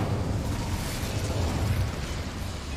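Incendio fire spell cast in the video game Hogwarts Legacy: a loud, sustained roaring blast of flame that holds steady for about three seconds.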